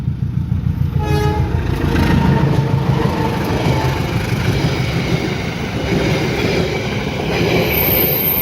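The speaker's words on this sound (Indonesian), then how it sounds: "kereta api." A train passes close by on the railway line near Haurpugur station, a loud sustained rumble of wheels on track with brief squeals and a high tone near the end.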